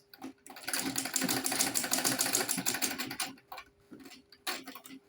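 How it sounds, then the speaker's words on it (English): A sewing machine stitches a lady's shoulder bag in a fast, rattling run of close stitches lasting a few seconds, then stops briefly before a short final burst. "So I'll sew it."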